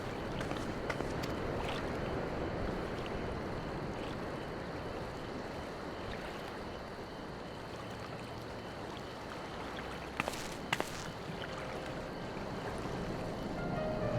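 Ocean waves lapping steadily in Final Fantasy 14, a soft, continuous wash of water that stays even throughout with no talking.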